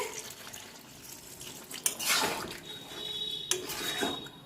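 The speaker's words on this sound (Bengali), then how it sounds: "জল দিয়ে দিচ্ছি" Water poured into a pan of chicken curry with nearly dried spices over a lowered flame, a soft continuous splashing with a couple of brief louder bursts, plus faint clinks of pots.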